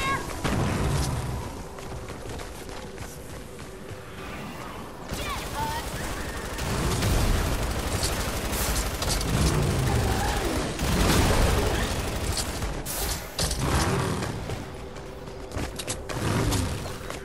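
Grenade explosions and rapid gunfire in a video game, repeated booms and bursts of shots loud throughout, with a voice calling out over the battle.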